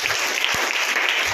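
Church congregation clapping in praise during a Hindi prayer service, a steady wash of many hands applauding at once, fairly loud and continuous with no voices above it.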